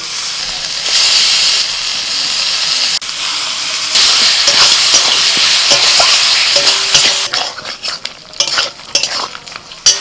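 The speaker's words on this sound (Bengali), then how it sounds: "মশলাটা একটু হালকা নাড়াচাড়া করে নিয়ে আমি দিয়ে দিচ্ছি সিদ্ধ করা মটন" Boiled mutton fries in an onion, ginger and garlic masala paste, a loud, steady close-up sizzle with hissing steam, then gets stirred with scraping, clattering spatula strokes in the pan toward the end.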